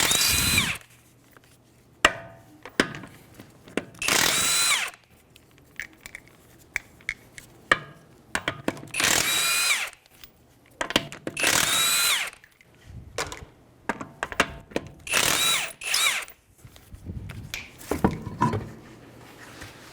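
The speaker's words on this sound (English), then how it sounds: "With a 21mm socket, we're going to go ahead and take our tire off." Power tool with a 21mm socket zipping lug nuts off the wheel of a 2015 Hyundai Sonata: repeated short whirring bursts in a stop-start rhythm, close by, with clicks and metallic handling sounds between them.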